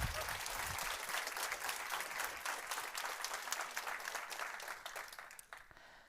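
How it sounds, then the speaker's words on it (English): An audience at a Nordic female investor meetup claps warmly in a dense, steady round of applause that fades away toward the end. "Give a round of applause to Helen."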